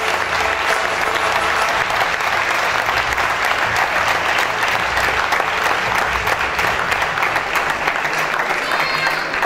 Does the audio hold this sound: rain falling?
no